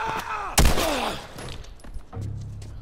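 Gunfire in the game The Last of Us Remastered, with one loud blast near the start followed by ringing echoes and scattered further shots and thuds.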